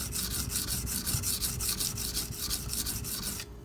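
A Karaku AS gyuto 210mm knife blade being ground on a sharpening stone, giving steady rhythmic rasping strokes, about six per second, close and alone, stopping abruptly at the end.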